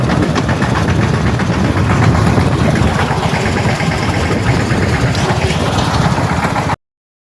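A farm tractor idling close by, a loud steady low diesel chug with a rapid even throb that continues unbroken until it cuts off abruptly near the end.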